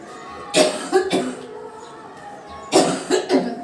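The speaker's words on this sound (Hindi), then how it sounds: "आज बहुत खांसी हो रहा है।" Two bursts of harsh coughing, each a quick pair of coughs, close and loud, separated by a short quiet pause.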